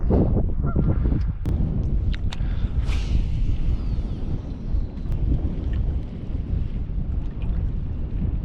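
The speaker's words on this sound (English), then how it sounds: "The geese are going wild over there." Geese honk repeatedly in the distance over steady wind noise on a windy lakeside fishing day, the calls scattered and faint against the rushing background.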